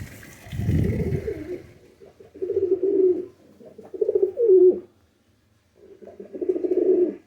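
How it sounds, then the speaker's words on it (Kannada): A pet bird near its nest coos in several soft, low phrases separated by short pauses, close and alone with a faint watery background. "ನಮ್ಮ ಹೊಸ ಪಕ್ಷಿ ನಮ್ಮ ತಾಮ್ರ ನೋಡ್ಬೋದು."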